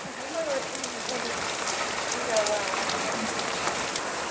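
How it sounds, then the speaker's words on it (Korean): Rain patters steadily onto rocks near a small hermitage at Maisan, a dense, hissing wash of drops with faint scattered ticks, continuous and close, with no voices over it. "바위에 떨어진 비가 오고 있습니다"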